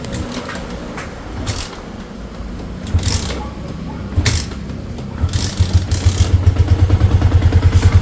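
A Yamaha Sniper 150 motorcycle with a dried-out oil condition clatters and fires up after failing to start, then settles into a steady, rapidly pulsing idle close by, with people talking over it.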